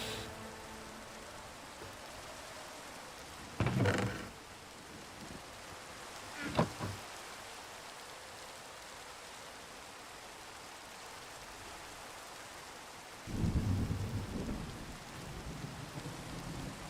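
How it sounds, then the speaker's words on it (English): Steady rain with rolling thunder in the video game Minecraft: a constant hiss of rainfall throughout, broken by two short rumbling cracks early on and a longer low roll of thunder near the end, with no voices. "I think I hear thunder"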